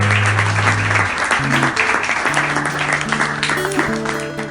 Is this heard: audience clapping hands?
yes